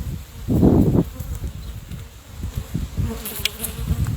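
Honeybees buzzing steadily and close around an open hive during a beekeeping inspection, a dense continuous drone that swells loudly for a moment and then holds on alone without talk.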